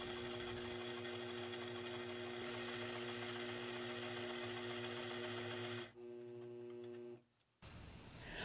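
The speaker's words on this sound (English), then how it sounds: "I align the turret ruler so that the same etched line on the ruler as I used before will be my end point, and then I just stitch the opposite side" Sewing machine quilting along a turret ruler, a steady rapid stitching rhythm running close and loud for about six seconds, then slowing briefly before stopping, with no voices.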